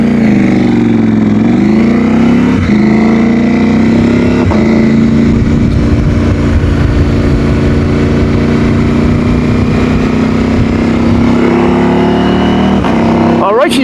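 Motorcycle engine droning steadily throughout a ride, a continuous loud hum with wind roar, and someone talking over it.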